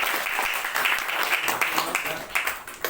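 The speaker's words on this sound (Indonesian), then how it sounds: "tepuk tangan" Sixth-grade students clapping in a classroom, a lively patter of small hands with uneven bursts, fairly close, while a teacher's voice carries over the top.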